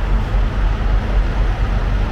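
Several trucks idle nearby, a steady, loud low rumble with no talk over it.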